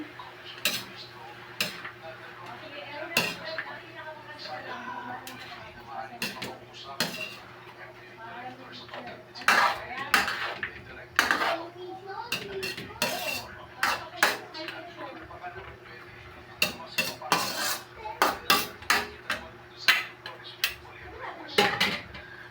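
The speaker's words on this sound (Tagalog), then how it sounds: "Haluin natin." A spoon stirs food in a metal cooking pot, with repeated sharp clinks and scrapes against the sides in an irregular rhythm, close and fairly loud, under intermittent talking.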